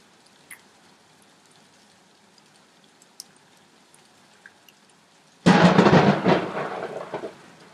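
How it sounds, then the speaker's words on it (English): Thunder rumbles outdoors on a rainy day, a quiet stretch with faint scattered drips giving way to a sudden loud, broad roar that swells and slowly trails off near the end. "So we're painting in the thunder today"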